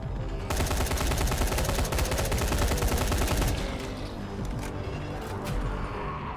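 Rapid automatic gunfire in the zombie video game Dying Light rattles loudly and continuously for several seconds, then gives way to scattered single shots and impacts.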